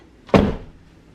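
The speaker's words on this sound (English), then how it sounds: "I'm going to open and close the door again." A Tesla Model Y car door shuts with a single solid thunk, close and sharp, followed by quiet.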